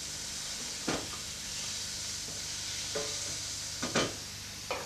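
Anchovy fillets and capers sizzle in a pan under a steady frying hiss, with a few sharp spoon scrapes and knocks against the pan as they are stirred.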